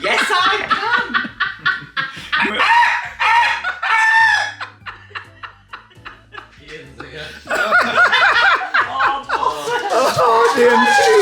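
A person mimics a cockerel crowing, long loud rising and falling crows repeated close up, mixed with laughter and chatter from others nearby.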